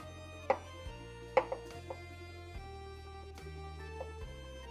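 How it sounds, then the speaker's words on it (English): A knife slices onion and mushrooms on a board for beef stroganoff, giving a handful of sharp, separate cuts at an uneven pace, close and fairly quiet, with steady background music underneath. "Slice the onion, slice the mushrooms"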